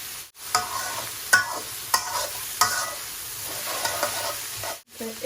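Ghee hisses and sizzles steadily in a frying pan during vegetable couscous cooking, with a few sharp scraping stirs and clanks cutting through at close range and no talking.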